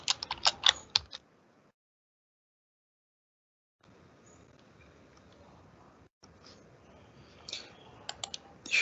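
Clattering keystrokes on a computer keyboard in quick bursts at the start, then near silence and a faint hiss, with scattered sharper taps returning toward the end.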